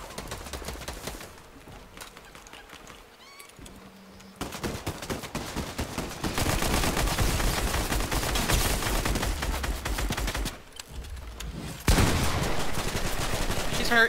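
Gunfire crackles in a battle royale video game during a fight in the woods, with sporadic shots early on giving way to sustained rapid automatic bursts, loud and near.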